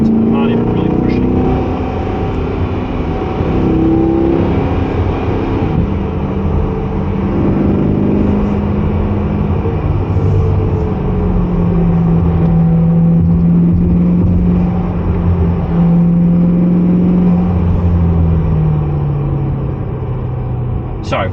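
A 2024 Corvette Stingray driven hard through turns, heard from inside the cabin: a loud, steady engine drone with rising and falling revs and constant road rumble throughout.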